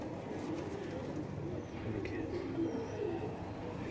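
Lal Cheena pigeons cooing at an Indian pigeon farm, soft low coos rising and falling over a steady murmur of background noise, with occasional faint chirps and no clear talk.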